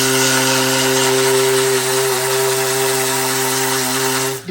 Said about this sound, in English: This palm sander fits right in the palm of my hand